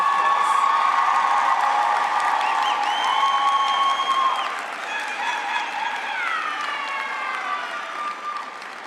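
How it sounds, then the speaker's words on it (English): An audience at a university graduation ceremony applauds staff in a dense, sustained clatter of clapping, with a crowing rooster or similar bird piercing through on top, before the applause thins and fades slightly. "Please give them a hand of applause."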